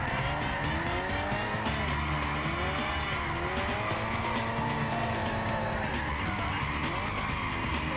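A race car in the Gran Turismo 6 video game spins out, its tires squealing and skidding for several seconds over a loud, steady engine roar.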